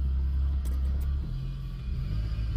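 A car engine idles after a jump start, a low steady rumble close by that dips slightly partway through, with no talking.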